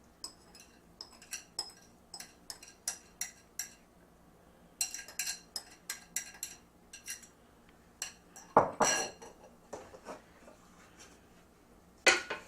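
Kale-cranberry salad with mozzarella and pumpkin seed oil dressing tossed in a bowl, giving a steady run of light clinks, taps and scrapes of utensils against dishware, with a few louder clatters near the end.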